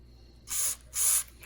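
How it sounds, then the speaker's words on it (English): Two short bursts of aerosol lubricant spray onto the rear hub mounting bolts of a Grand Caravan, each about a quarter second long, close and crisp against a quiet workshop background. "I'm going to pre-lube the backs of the bolts that are going and holding the hub on here."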